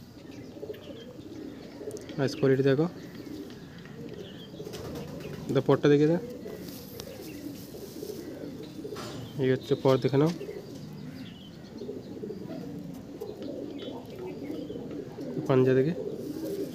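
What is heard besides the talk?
Madras pigeons, Kolkata line, cooing in loft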